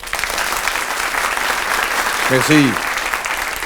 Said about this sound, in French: Je vous demanderai d'applaudir dès que vous êtes d'accord